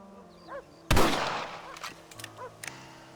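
Rifle shot in the Red Dead Redemption western game, one sharp loud crack with a fading tail, followed by a few faint clicks and light ambient noise.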